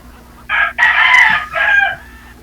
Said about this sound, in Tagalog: May tumitilaok dyan.